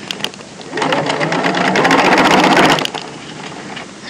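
Sewing machine stitching through folded fabric layers of a bagged-out yoke, a steady rapid mechanical whir running for about two seconds between quieter handling sounds.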